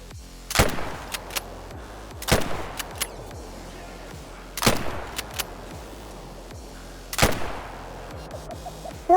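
Four loud, separate rifle shots from a Frost 257 in a hunting game, fired a couple of seconds apart, each a sharp crack followed by a fading echo, with fainter mechanical clicks in between.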